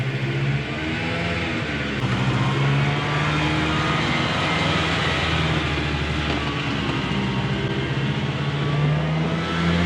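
A tracked mini-tank sleigh doing donuts, its engine droning loud and steady up close, with continuous revving and track rumble and no voices.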